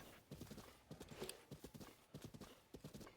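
Horse hooves clip-clop at a steady walking rhythm while riding through open country in a Zelda video game, with close, repeated hoofbeats and a faint whinny partway through.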